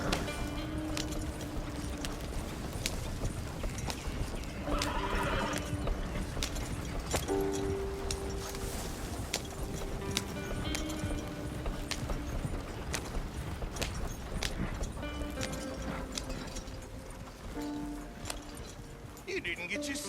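Horse hooves clip-clopping at a steady run in Red Dead Redemption 2, a continuous rhythmic patter under game music and ambience, with a voice speaking briefly over it.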